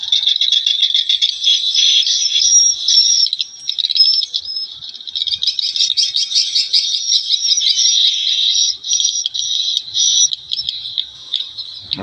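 Dense, continuous high-pitched chirping and twittering of recorded swallow calls played through an amplifier, loud and steady throughout, with a slightly electronic, amplified quality and no voices.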